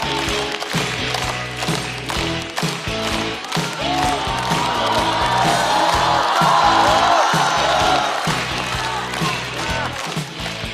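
A studio audience at a stand-up comedy show claps and cheers loudly to welcome a comedian, a dense, continuous roar of applause with whoops that swells in the middle and holds steady.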